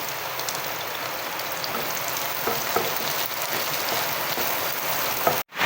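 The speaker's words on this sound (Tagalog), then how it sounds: "ang lakas ng ulan" Heavy rain pours steadily outside during home cooking, where oil, ginger, garlic and onion are being sautéed. A dense, continuous hiss stays loud throughout with scattered drop ticks and no talk, ending in a sudden cut.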